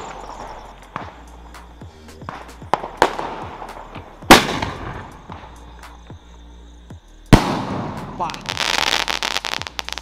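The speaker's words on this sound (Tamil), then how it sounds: "ஒரு வெடி தான் அடித்தோம்" A Diwali fancy firecracker, the Rio 3 in 1 Angry Birds, bursting with sharp pops and two loud bangs followed by a crackling fizz, with voices talking around it.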